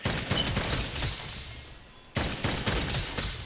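Light bowgun in Monster Hunter World Iceborne firing three-shot ammo, a dense volley of loud rapid gunfire bursts that pauses briefly, then resumes with another clustered burst of shots.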